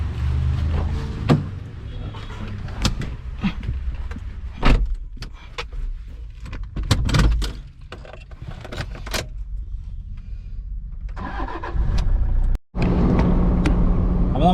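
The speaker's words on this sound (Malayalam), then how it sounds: "നമ്മളുടെ ഈ ഒരു സിൽവർ ഇന്നോവ നമ്മളിപ്പോൾ വാഷിങ്ങിന് ഇടാനായിട്ട് ഞാനും ഭായും പോയിക്കൊണ്ടിരിക്കുകയാണ്" A silver Toyota Innova on the road, with steady engine and road rumble throughout, scattered clicks and knocks from the cabin, and a louder surge of driving noise near the end.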